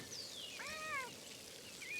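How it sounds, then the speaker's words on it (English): A cat meows when petted in the video game Pentiment, one clear rising-falling meow in the middle, followed by a brief faint chirp near the end, over a steady background hum. "Oh, we have to pet the cat."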